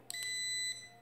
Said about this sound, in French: quatrième mode, c'est un bip long.